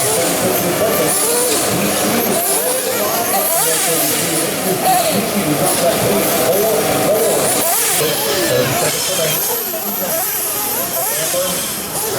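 RC race cars circle a track at the Florida RC Championships, a dense, loud, continuous whine and hiss of small motors that swells and fades as cars pass, with an announcer speaking over the noise.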